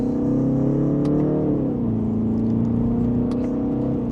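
BMW 330i small sedan accelerating in sport mode, second gear: a steady mid-pitched engine note rising in revs, easing at an upshift, then pulling again, loud and continuous from inside the cabin.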